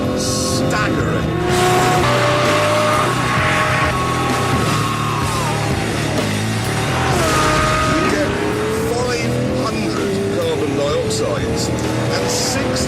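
A Lamborghini with a 6.5-litre V12 engine revs and roars, its pitch sweeping up and down through gear changes, loud and close, with someone talking over it.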